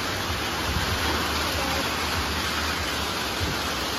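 Steady afternoon rain pours down in a dense, even hiss that fills the whole stretch without pause, close and loud.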